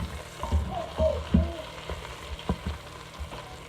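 Sausages frying in a pan, a steady soft sizzle with occasional louder pops and clinks of a utensil stirring, fairly quiet and close.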